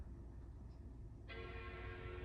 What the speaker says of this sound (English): Oh, we get a chime